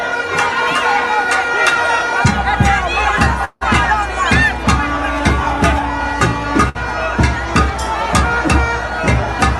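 A dense, loud crowd shouts and cheers around the Prime Minister as he walks through it, with many overlapping voices and sharp cries throughout.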